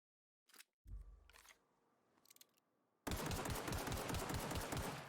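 An automatic gun in The Outer Worlds video game fires in a long, rapid, loud burst after a few scattered earlier shots and clicks, the rounds coming in a fast even rhythm.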